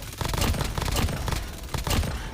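An MG machine gun fires in Call of Duty Mobile, rapid loud bursts in close succession with short pauses between strings of shots, close and dominant with no talking.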